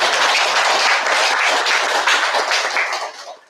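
Church congregation at a Korean Unification Church gathering applauding in thanks, a dense, steady wash of many hands clapping at close range that thins and fades out at the end.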